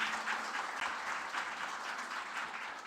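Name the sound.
audience applause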